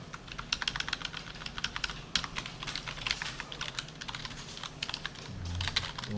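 Code being typed on a computer keyboard, with quick irregular clusters of close key clicks and short pauses between bursts. The clicking is quiet and no one speaks.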